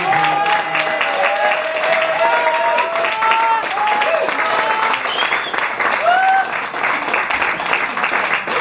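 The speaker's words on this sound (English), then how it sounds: "Nice round of applause once again for Stan" An audience at an acoustic music club applauds steadily after a song, with continuous loud clapping and voices talking and calling out over it.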